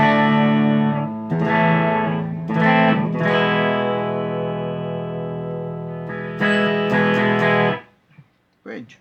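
A Norse Odin Grail electric guitar plays clean sustained chords and single notes, dry and close with no echo or reverb, pausing briefly between phrases before a final few plucks.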